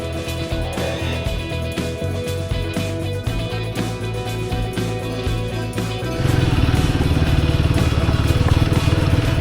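A GRR 450 motorcycle engine runs steadily close by, its rough mid-pitched drone with a throbbing pulse stepping up louder and busier partway through, as if revving or pulling away, with no voices.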